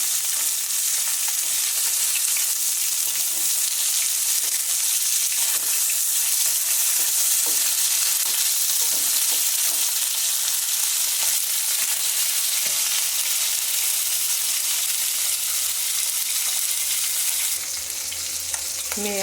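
Fish frying in hot oil in a pan, a loud, dense, unbroken sizzle held close throughout, shifting slightly in tone near the end.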